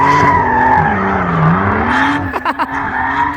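Close, loud tire squeal from a drifting Nissan S13 with cut knuckles and a Barra Skyline engine: a sustained screeching whine over engine roar that bends in pitch, then a few choppy bursts near the end.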